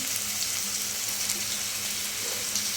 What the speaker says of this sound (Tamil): இப்போ இந்த சமயத்தில் நம்ம பரோட்டாவை போட்டுக்கலாம்